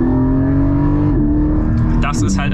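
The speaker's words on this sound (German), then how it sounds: "Das ist halt ein Saugmotor" Porsche 718 Cayman GT4 with a naturally aspirated engine, a loud steady high-revving drone up close, pitch dipping slightly midway, while a person talks over it.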